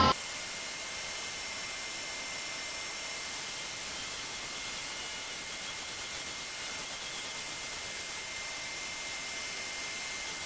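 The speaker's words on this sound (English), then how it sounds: "Let's get the shop vac over here, see if we can suck up some of this dust." A shop vac running to suck up dust, a steady unbroken rushing roar of airflow that holds at an even level from start to finish, with no talking.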